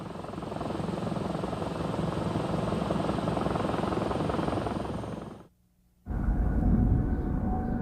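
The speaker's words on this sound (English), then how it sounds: "armed helicopters served as one of the most effective defensive measures" A Vietnam War–era military gunship helicopter's rotor thrums loud and steady, cuts out abruptly for a moment, then resumes with a deep rumble.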